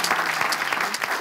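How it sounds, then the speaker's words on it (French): Dense, loud audience applause at a televised French-language semi-final entertainment show, a continuous wash of many hands clapping close by with occasional crowd noise mixed in. "Applaudissez pour vous-même."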